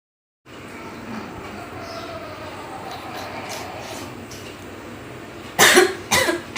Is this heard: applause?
no